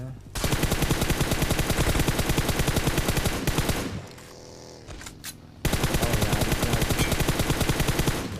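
Rapid automatic gunfire in the BGMI video game: a long, dense, evenly spaced burst, then a short quieter pause with a muffled hum, then another sustained burst, loud and close.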